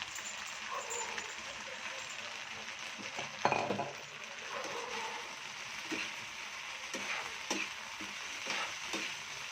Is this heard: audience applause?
no